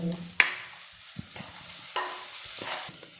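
Shallots and green chillies fry in oil for a Kerala fish curry, with soft sizzling, a sharp clink of a spoon on the pan and a few scraping stirs.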